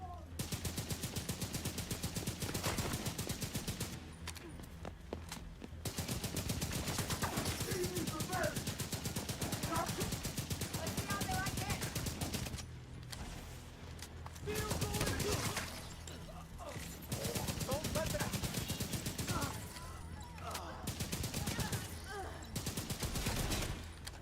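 Rapid bursts of urban MDR rifle fire in The Division 2 rattle out in long sustained strings, separated by brief pauses, loud and dense, with a voice talking over parts of the shooting.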